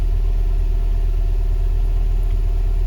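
An engine runs with a steady, low, pulsing rumble on a cold start, a loud close idle throbbing continuously without pauses.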